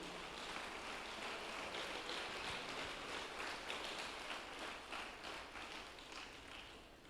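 A church congregation applauding after a sermon, heard as a steady, fairly faint wash of clapping that tapers off toward the end.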